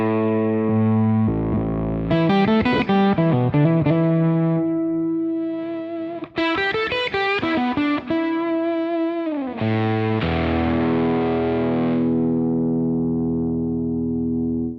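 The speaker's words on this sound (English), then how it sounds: "when we start to play around with this electricity control, we can bring in some upper and lower octaves" Electric guitar through a Kernom MOHO fuzz pedal with upper and lower octaves blended in, playing thick distorted sustained chords and quick strummed runs, loud and continuous with no talk.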